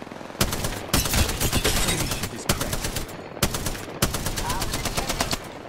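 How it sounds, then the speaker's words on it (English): Automatic weapon fire in the video game Apex Legends comes in several rapid bursts separated by short gaps, loud and close, with a faint voice in between. "Taking fire. Reloading. Getting shot at."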